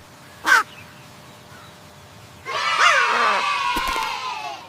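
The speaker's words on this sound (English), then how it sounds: "Caw, caw." A crow lets out one loud, harsh caw, then children cheer and shout as a crowd, with another caw faintly under the noise.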